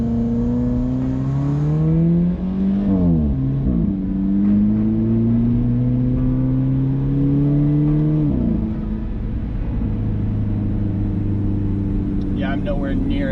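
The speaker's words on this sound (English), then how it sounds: "I'm nowhere near at full throttle, and it's accelerating quickly enough for me" A mid-engine Alfa Romeo 4C accelerates from inside the cabin, engine pitch climbing in repeated rising sweeps with gear changes, loud and close under a driver's talk.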